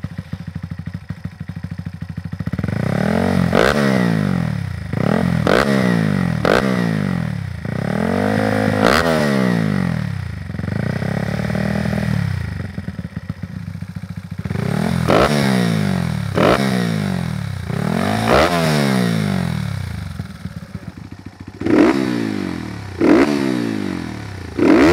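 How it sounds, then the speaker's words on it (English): A custom Honda Monkey 125 with a titanium exhaust and a 30+ horsepower engine build revs hard again and again, each loud, raspy rise in pitch dropping back to a rough idle, close up. "Listen at how it revs compared to a DHM Stage 3 Monkey 125."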